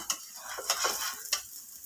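Egg omelette frying in a pan as a Kerala home cook stirs and flips it, soft steady sizzling broken by three sharp scraping clinks of the spatula against the pan.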